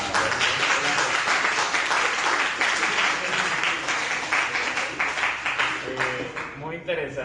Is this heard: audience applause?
yes